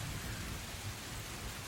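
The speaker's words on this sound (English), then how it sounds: "It's pouring down with rain," Heavy rain pours down steadily in a dense, even wash of noise, with a low rumble of thunder underneath throughout.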